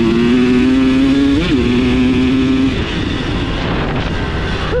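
A KTM 300 XC-W two-stroke dirt bike engine revving hard while being ridden, a loud buzzing whine that climbs, dips briefly, then settles into a steady roar close to the listener.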